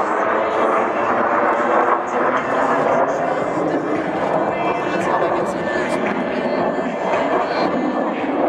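Blue Angels jets performing a four-aircraft diamond roll at an air show, a steady loud roar of jet engines filling the scene, with an announcer talking over it.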